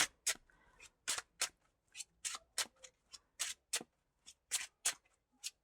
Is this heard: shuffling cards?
yes